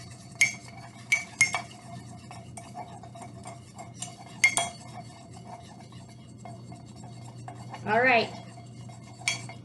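A knife stirs mug cookie batter in a mug, giving scattered clinks and scrapes of metal against ceramic, with a brief burst of sustained scraping near the end; a voice speaks briefly.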